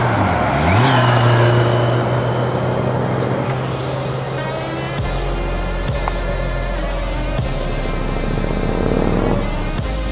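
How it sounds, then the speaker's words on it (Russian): A motorcycle passing along a street, its engine tone sweeping up and fading, over steady loud road and traffic noise heard close up. "Смотри, какой мотоцикл едет"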